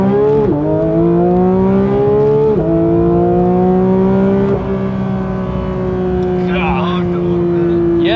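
Launch of a 2022 Porsche GT3: a loud, close engine pulls steady rising revs with a few quick shifts and dips, holding a strong harmonic tone throughout, briefly bogging before carrying on.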